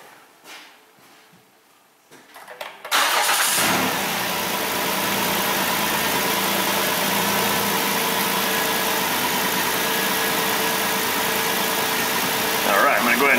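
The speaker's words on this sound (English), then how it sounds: "Wants us to crank the engine over." A starter cranks briefly, then a car engine catches and settles into a steady, loud idle that continues close by.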